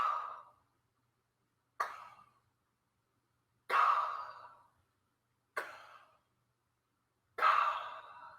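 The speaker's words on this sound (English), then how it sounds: "Or breathing in and out on the whispered ka." Five separate breathy whispered 'ka' releases during a Linklater voice warm-up, each a soft airy burst that fades quickly, evenly spaced with silent gaps between them and no other sound.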